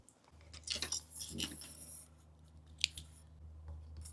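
Fabric scissors snip away excess cloth from a sewn bucket bag, a few close, crisp cutting clicks and small metallic chinks, fairly quiet.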